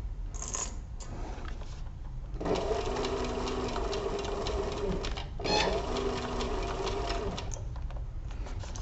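A sewing machine stitches the gusset seam of a crossbody bag, its motor humming in two steady runs separated by short pauses and lighter clicks, close and clear with no talk.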